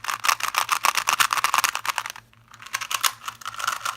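Rapid, scratchy plastic clicking from a budget 2x2 puzzle cube being turned up close, dense and continuous with a brief pause midway.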